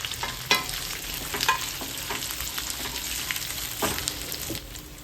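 Chopped potatoes drop into hot oil already sizzling with cumin, chilies and curry leaves, giving a sharp burst of frying followed by a continuous crackling sizzle and scraping stirs of a spoon in the pan.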